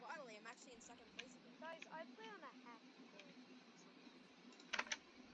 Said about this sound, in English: it's because I got a new gaming keyboard